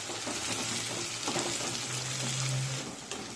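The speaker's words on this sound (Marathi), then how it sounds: "एक बारीक चिरलेला टोमॅटो टाकूया आणि हा टोमॅटो सुद्धा परतून घेऊया।" Finely chopped tomato sizzles and fries in a pan as it is sautéed and stirred, a close, steady hiss with occasional scraping of the spoon.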